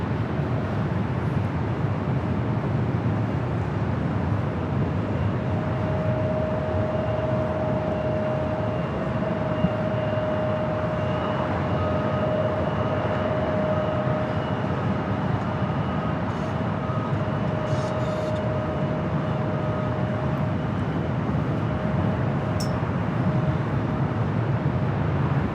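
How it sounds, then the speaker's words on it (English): A jet airliner takes off from the south side of Los Angeles LAX on a flight to Tokyo Haneda, a steady broad roar that holds evenly throughout with a faint tonal whine riding above it. "Next takeoff here on the south side, flight 39 heading to Tokyo Haneda."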